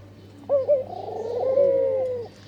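A ghughu dove on a rooftop gives a single soft, drawn-out cooing call at close range, swelling and holding before fading, with no other voices.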